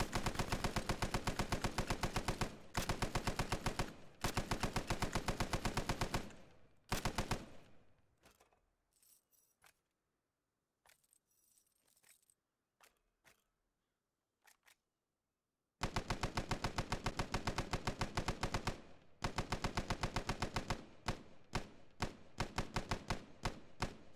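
Belt-fed .30-06 machine gun from a 1919–1945 design in the Arma 3 game, firing long loud automatic bursts with a fast steady rate, pausing for several seconds of quiet with scattered single shots and clicks before resuming sustained fire.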